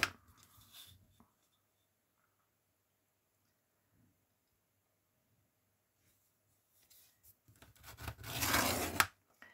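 Paper being cut and scored by hand: a brief scratchy stroke at the start, a long quiet stretch, then a louder, sustained rasping cut near the end, close up with no talking.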